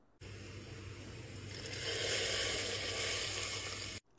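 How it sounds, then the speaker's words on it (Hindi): Cumin seeds hit hot oil and sizzle loudly, a bright crackling hiss that swells after a moment and holds steady, close up, before cutting off. "इसका सिजलिंग साउंड सुनने का अपना ही स्वाद है"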